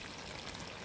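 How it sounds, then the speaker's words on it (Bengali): Hot water pours steadily into a curry being cooked, a continuous hissing splash lasting under a second before stopping abruptly. "এবারে আমি গরম জল দিয়ে দেবো।"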